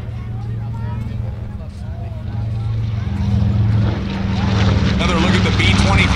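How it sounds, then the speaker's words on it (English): A B-25J Mitchell bomber with two Wright R2600 14-cylinder radial engines makes a flyby at an airshow, its deep engine drone building steadily louder as it approaches, with people talking over it. "One more flyby with the Mitchell."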